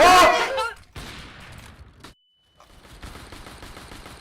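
Gunfire in a shooter video game: a loud burst of rapid shots at the start, then quieter scattered shots and game noise, with a brief drop to near silence midway while players talk over it.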